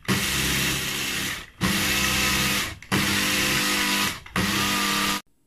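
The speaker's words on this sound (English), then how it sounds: "It grinds the egusi really fast." An electric grinder whirs loudly as it grinds egusi seeds, running in four sustained bursts of about a second each, with brief pauses between them before it stops.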